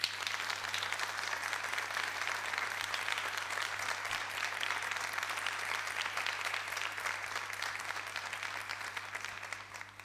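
Dense, continuous applause from an audience at a Neapolitan talent event, holding steady for about ten seconds and easing slightly toward the close, over a faint constant electrical hum.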